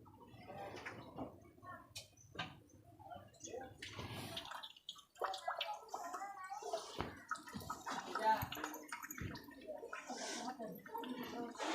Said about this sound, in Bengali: ধুয়ে নিচ্ছি শাকগুলো।